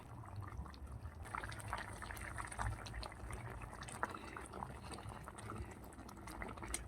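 Dal with spices bubbles in a pot, a faint, busy stream of small pops and gurgles that continues unbroken, quiet and close, with no voices.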